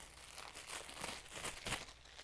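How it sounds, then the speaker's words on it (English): Crinkly plastic of an inflatable globe being crumpled right beside a microphone, loud, close rustling bursts that swell and fade in uneven waves for a couple of seconds, with no talking. "it's gonna crumple this plastic right next to my microphone"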